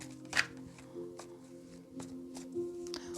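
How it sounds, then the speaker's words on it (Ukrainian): Soft papery shuffling and a few light taps as playing cards slip and drop, one sharper flutter near the start, with quiet background hum. "Ось карти випали загнулися і випали карти."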